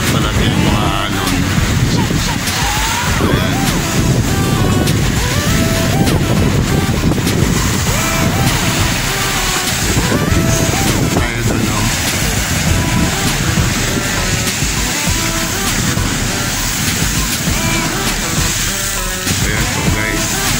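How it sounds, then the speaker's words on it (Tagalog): Loud gusting monsoon wind roars against the microphone while waves crash and churn against a sea wall at Bulan public market, continuous throughout, with a person talking underneath. "pinapalakas ng habagat ang yung hangin at saka pinapalaki yung mga alon."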